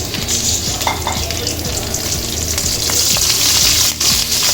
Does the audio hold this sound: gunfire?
no